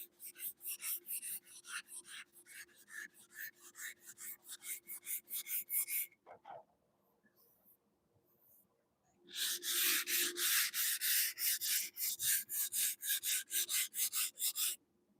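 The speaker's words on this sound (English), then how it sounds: "I love the way this Evercape sand." Block sanding with Evercape sandpaper gives a rapid, rhythmic scratching of steady back-and-forth strokes, heard close up, then a pause, then a louder second run of strokes.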